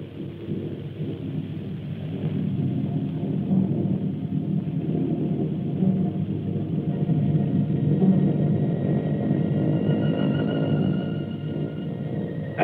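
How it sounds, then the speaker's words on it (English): Bomber aircraft engines wind up out at the dispersals, a deep, continuous droning rumble that swells and holds steadily, loud and unbroken, with no talk over it. "out in the dispersals, you hear them winding up those engines."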